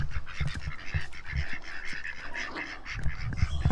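Ducks and geese on a farm pond quack and honk in a busy, overlapping chorus, close and fairly loud, with no talking.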